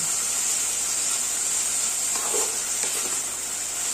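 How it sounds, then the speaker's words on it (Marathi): Beetroot sautés in ghee with a steady, close hiss and sizzle, soft stirring scrapes rising around the middle, no voices. "त्याला 2 मिनिटं आपण फक्त परतून घेणार आहोत तुपात"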